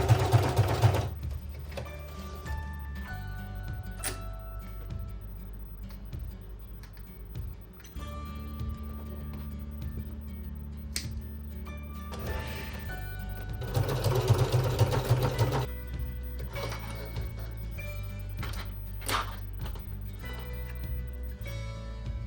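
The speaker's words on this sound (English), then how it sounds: "I will be using the Singer heavy duty machine to stitch the leather" A Singer heavy duty sewing machine stitches thin leather in steady bursts of rapid, even ticking. Short pauses break up the runs and the motor hums underneath, close and fairly quiet.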